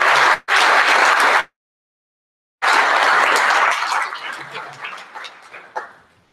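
Audience applause in a university lecture hall after a minister's speech at a UNESCO public lecture, loud dense clapping in two bursts separated by a silent gap, then tapering into scattered claps.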